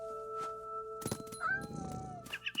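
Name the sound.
cat meowing, from video game What Remains of Edith Finch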